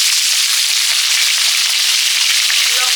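Chopped onion with five-spice seeds sizzles and crackles steadily in hot oil for a chiknī greens curry, a dense, close, continuous hiss with no voices.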